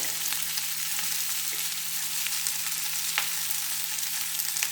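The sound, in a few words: capsicum frying in a pan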